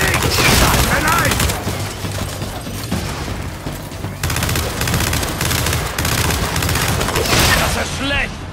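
Gunfire in the video game Gears 5, sustained heavy fusillades and bursts of automatic fire with booms, loud and continuous, with a character shouting over the shooting.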